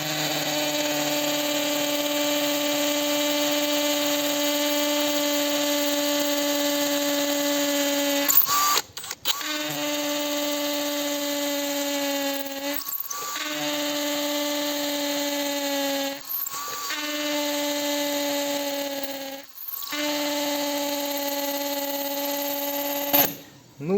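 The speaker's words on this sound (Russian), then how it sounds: "мы полностью сверло вогнали в бетон" A SHARKPRO ARCTIC 190 cordless drill whines in long, steady bursts as it bores into concrete, stopping briefly between runs before starting again.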